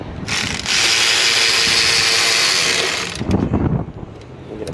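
A ratchet clicks rapidly in one sustained burst while tightening bolts on a Ford 6.7 Power Stroke EGR valve, loud and close, then a few softer clanks of tools on the engine.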